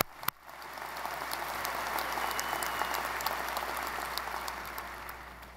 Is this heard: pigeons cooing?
no